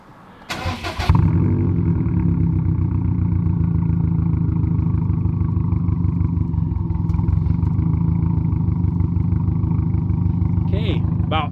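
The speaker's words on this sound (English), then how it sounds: "Alex, fire her up. Let's just see what she sounds like." A Subaru WRX STI with two catalytic converters cranks briefly and catches, then settles into a loud, steady, deep rumbling idle that runs unbroken to the end.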